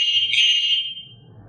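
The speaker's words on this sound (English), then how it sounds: "The 6th is a starling." A Petrainer PET910 dog training collar beeper plays a shrill, warbling starling-like call, high and bright, which cuts off after about a second, leaving faint low background noise.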